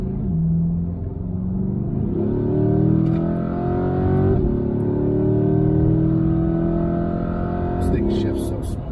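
A C8 Corvette with a dual-clutch transmission accelerates through gear changes, its engine tone rising, dropping sharply at each quick shift and building again, heard steadily from inside.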